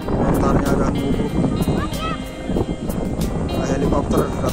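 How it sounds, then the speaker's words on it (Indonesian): A helicopter flies overhead during a windy storm with light drizzle, its rotor drone blending with gusting wind while a person talks over it. "Nah, helikopter datang."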